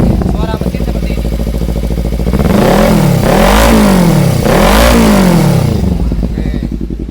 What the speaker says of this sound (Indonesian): Suara mesin seperti ini.